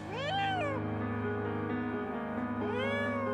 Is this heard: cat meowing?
yes